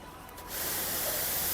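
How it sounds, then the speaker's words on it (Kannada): A spray gun nozzle releases a sharp, steady hiss of spray that starts abruptly after a brief quiet moment and holds at a constant level to the end. "ಸೊ ಇದು ಕೂಡ ನಿಮಗೆ ಸ್ಪ್ರೇಲ್ ಬರುತ್ತೆ,"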